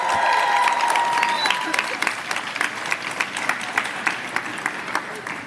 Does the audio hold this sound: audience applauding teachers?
yes